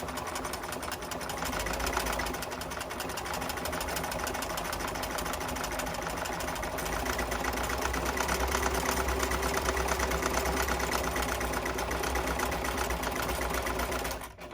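A sewing machine stitches a seam, running backward for a backstitch at the start and then forward, with a steady, close, continuous motor hum and rapid needle chatter throughout.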